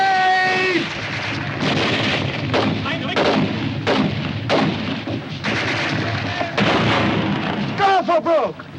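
Battle scene from a 1951 war film: heavy, booming grenade blasts and repeated gunfire crack across the scene, with shouting voices among the explosions.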